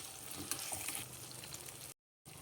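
Chopped onions and tomatoes fry in a pan for bottle gourd palya, a soft continuous crackling sizzle with small pops, faint and close, cut by a brief silence near the end.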